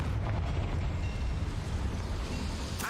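A Confringo fire spell goes off in a wizard video game, a brief, loud, roaring blast of rushing noise that fills the whole moment.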